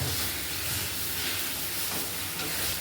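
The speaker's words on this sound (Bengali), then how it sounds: "আরেকটু নেড়ে নেড়ে এটাকে আরেকটু ভেজে নেবো, ভালো করে মিশিয়ে নেবো মশলাটা।" Spiced potato filling sizzles steadily as it is stirred and fried in a pan, a continuous close hiss of frying with no talk over it.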